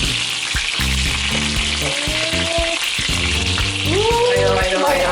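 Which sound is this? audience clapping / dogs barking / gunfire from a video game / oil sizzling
oil sizzling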